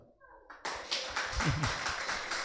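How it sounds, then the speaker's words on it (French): A church congregation breaks into brisk hand clapping, dense and rhythmic after a brief quiet start, with voices mixed in at moderate volume. "Applaudis pour ça."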